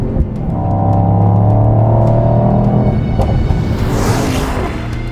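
A Mercedes-AMG GT 63 V8 engine rumbles loud and steady up close, with harmonic tones rising through a rev before a broader whooshing roar takes over near the end.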